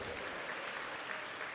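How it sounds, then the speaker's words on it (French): Audience applause at a comedy show, a dense, steady wash of clapping from a crowd, sustained and even throughout with no voices standing out. "Applaudissez pour Maître Benouendé."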